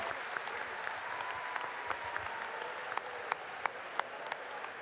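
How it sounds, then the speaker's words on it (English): A round of applause from an audience for the students at a live quiz event, steady clapping throughout with a few sharper claps standing out, fairly even and moderately distant. "Can we have a round of applause for them"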